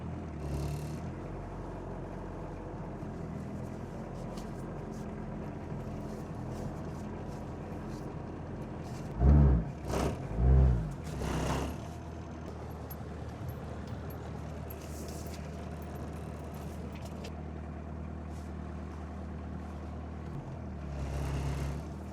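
A Volkswagen Golf Mk1 that sat unused for 12 years idles with a steady low engine rumble. It creeps off, and two brief louder bursts come near the middle, then it settles back to a constant drone.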